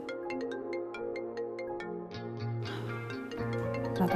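A mobile phone rings with a melodic ringtone for an incoming call, a repeating tune of plucked notes that shifts into a fuller passage, continuous and clear with no talking.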